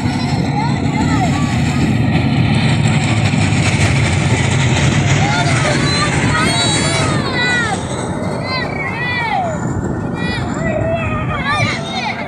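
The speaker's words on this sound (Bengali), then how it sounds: "এবং আমাদের দিকে একটি ট্রলার আসতেছে," A trawler boat's engine on the Padma river, a continuous loud throbbing drone close by, with voices talking over it and birds chirping in the second half.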